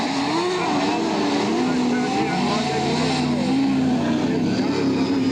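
Race cars battle for third place on the track, engines droning loudly and continuously with shifting pitch, under a commentator's voice.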